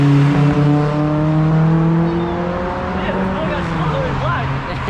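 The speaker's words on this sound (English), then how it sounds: "Oh, this 240 is getting a bit rowdy. That sounds very nice." A Datsun 240 revving hard at an outdoor car show, a loud, rough engine note with strong steady harmonics that hold and then slowly ease, while crowd chatter and voices carry on underneath.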